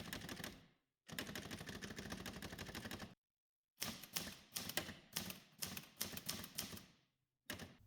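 An Olivetti Linea 98 office typewriter's lever and roller mechanism gives loud, close, dense mechanical rattling in bursts of varying length, separated by short silences.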